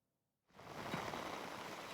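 Early monsoon rain on Jeju Island begins after a moment of near silence, then falls as a steady, dense hiss of drops on surfaces with no voices.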